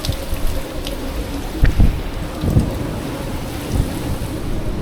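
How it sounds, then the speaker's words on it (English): Heavy rain drums steadily on a surface nearby, with occasional low thumps and rumbles under the constant hiss. "When we get this much rain, the roof leaks a little bit."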